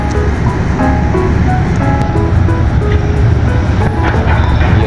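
Tugboat 78 churns up the water at the Port of Lucena, producing a loud, steady engine rumble with broad watery turbulence throughout and no talking.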